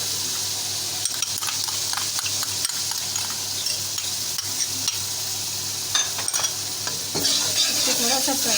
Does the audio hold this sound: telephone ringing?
no